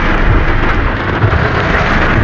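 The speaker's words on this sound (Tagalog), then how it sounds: "Lakas ng ulan." Heavy rain drums steadily on a vehicle during a rainy drive, a loud, unbroken broadband roar with wind buffeting and no voices.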